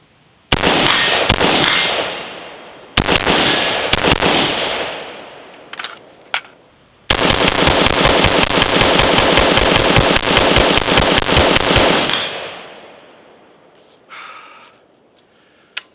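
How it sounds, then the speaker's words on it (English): Rapid full-magazine bursts from a 5.56 rifle fitted with a VG6 Gamma muzzle device: two short strings of shots, then a long, unbroken automatic-rate volley, loud and close, with sharp reports and no talking. "let's go ahead and do a couple more quick mag dumps with it"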